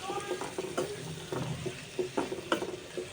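Chopped onions fry in a pan with a low sizzle, overlaid by irregular scraping and clinking stirring strokes, close but fairly quiet, with no talk.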